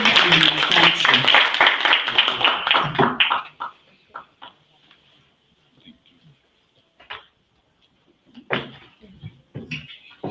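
Audience applause after an official opening at a Uganda Nordic Baltic diaspora convention, a dense burst of clapping that stops abruptly after about three seconds, followed by a few scattered claps and quieter sounds.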